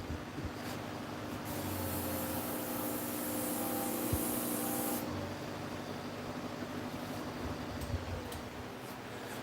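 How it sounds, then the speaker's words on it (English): Steady, close-up rasping of sanding leather runs continuously, a dry scratchy hiss that swells slightly midway with no talking. "I'm going to sand this, get it level, and then we'll stitch it up."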